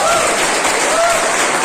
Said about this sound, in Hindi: चाहूंगा एक बार जोरदार तालियां।